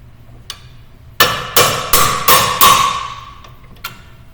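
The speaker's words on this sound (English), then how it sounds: "Just knock the bolts through." Hammer knocking strut tower bolts out through the steering knuckle of a 2012 Jeep Compass in a school auto shop: five sharp metallic strikes in a steady rhythm, close and loud, then a lighter tap.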